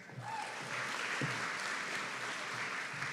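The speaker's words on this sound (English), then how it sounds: "So a big round of applause for our Bachelor of Arts in Education, Gaeilge, and Business Studies" An audience at a graduation ceremony applauds steadily, a sustained dense patter of many hands heard at moderate level from a slight distance.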